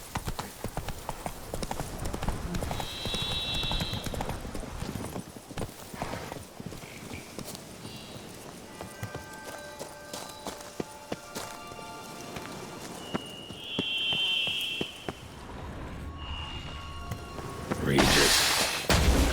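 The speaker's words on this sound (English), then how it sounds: "Run, Roach" Horse hooves clip-clopping across ground in The Witcher 3, a steady rhythmic hoofbeat running through the whole stretch with game ambience and brief tonal chimes layered over it.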